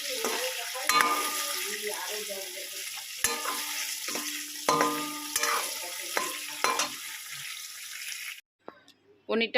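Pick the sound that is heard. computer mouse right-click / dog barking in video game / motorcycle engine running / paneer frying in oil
paneer frying in oil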